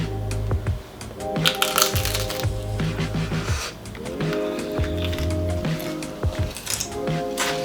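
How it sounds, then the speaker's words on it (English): Pale air-fried cabbage pieces dipped in sweet chili sauce crunch in close, loud bites. Irregular crackling chews come one after another and carry on without talking. "I did this in the air fryer, so they're quite pale, but they sound crispy"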